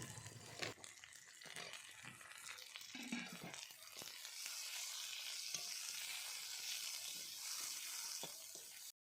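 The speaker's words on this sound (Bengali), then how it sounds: "তারপরে দিয়ে দিলাম পেঁয়াজ কুচি দিয়ে প্রথমে এটাকে ভালো করে নাড়াচাড়া করে নেব 2 মিনিটের মতো।" Chopped onions and cumin seeds sizzle and fry in a pan while being stirred, a steady close crackle with scraping stir strokes throughout, no voices.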